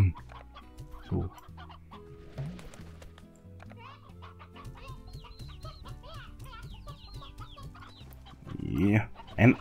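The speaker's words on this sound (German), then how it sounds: "Ja, ein altes Huhn." Chickens cluck repeatedly in the video game Slime Rancher, with an old hen among them, a steady run of short clucks and squawks at moderate level under occasional talking.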